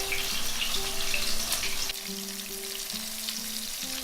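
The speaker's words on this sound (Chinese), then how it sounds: "油锅5成热的时候放下来煎" Starch-coated pork chop frying in moderately hot oil, a steady close sizzle and crackle throughout, with a faint background hum and no talk.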